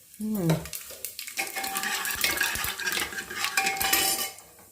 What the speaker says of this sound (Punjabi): ਪਹਿਲਾਂ ਪਹਿਲਾਂ ਜੀਰਾ ਜੀਰਾ ਪਾਦਾ ਤੇਲ ਤਾਂ ਗਰਮ ਹੋ ਗਿਆ ਏ